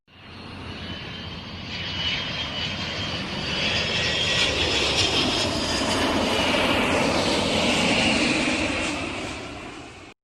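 A propeller airplane engine drones loudly for about ten seconds, swelling in as it nears and holding a steady roar, alone with no voices.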